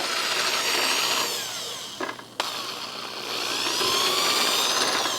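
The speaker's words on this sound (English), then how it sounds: "We're just drilling it." A loud, steady power drill whines continuously as it bores through a rubber piece on an RV camper awning, briefly dropping out and restarting mid-way before running again at full speed.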